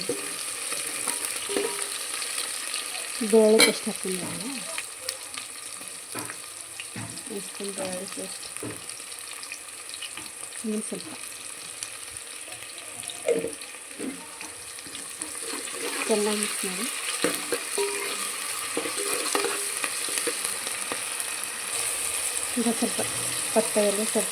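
Onion, curry leaves, tomato and coriander fry in a pan for a curry, with a continuous sizzle and repeated close stirring and scraping clatters throughout.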